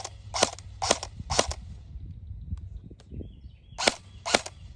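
A Lancer Tactical airsoft gun fires semi-automatically: five sharp, close snapping shots in two groups of three and two, separated by a quieter pause with faint mechanical ticks.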